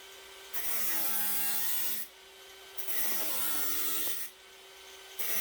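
A fire pit part is roughly cut by hand in two long, steady rasping strokes, each about one and a half seconds, separated by short pauses and loud and close.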